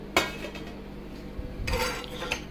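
A metal lid lifted off a pot of biryani left to steam in a home kitchen, giving a sharp clink, then soft scraping and rattling, close and fairly quiet with no talking.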